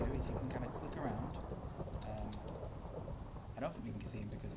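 Rain falls steadily in the video game Minecraft, a dense continuous hiss with low rumbling thunder beneath it, fairly loud throughout.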